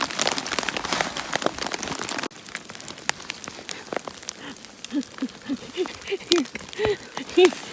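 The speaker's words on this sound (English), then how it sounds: "You got some hail on your britches." Hail and rain pelt down during a Colorado storm, a dense steady patter at first that thins out, with people talking under bushes and a few vocal sounds near the end.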